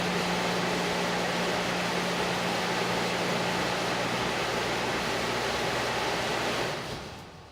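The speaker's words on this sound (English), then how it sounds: "Now, let's start the pumps." Water pumps run with a steady, loud broadband rush and a low constant hum, holding even for several seconds before fading near the end.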